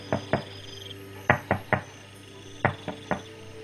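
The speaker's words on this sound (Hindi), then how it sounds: "धीरे धीरे दरवाजा खटखटा रहा था" Soft knocks on a door come in small groups, two taps, then three, then three more, separated by short pauses, close but gentle against a quiet background hum.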